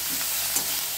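Kohlrabi leaves frying in a pan give a steady, close, loud sizzle with a soft crackling texture throughout one brief, unbroken stretch.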